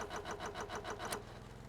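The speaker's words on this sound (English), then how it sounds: "and the engine has started." A boat engine starts in the game Stormworks, giving a quick regular chugging pulse that runs for about a second, then settles into a low, fairly quiet hum.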